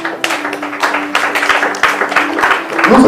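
A church congregation at a Bible teaching breaks into loud, sustained clapping and applause, dense and close, with voices mixed in throughout.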